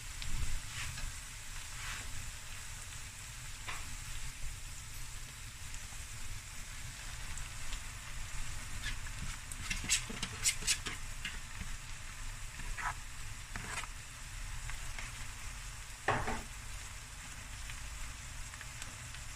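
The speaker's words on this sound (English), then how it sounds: "Now I'm going to stir fry this." Rice stir-fried in a pan gives a continuous close sizzle, with occasional scraping and clinking stir strokes and brief louder bursts, and no talking.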